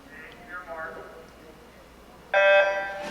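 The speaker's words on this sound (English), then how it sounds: "And there's the buzzer to start the event." A sharp electronic start buzzer sounds once near the end for a 100 backstroke varsity high school swimming race at an indoor pool, loud and brief after a stretch of quiet room noise with a voice in the background.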